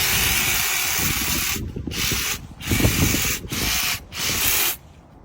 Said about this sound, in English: So our next job after doing the leaves is to trim the tops using a hedge cutter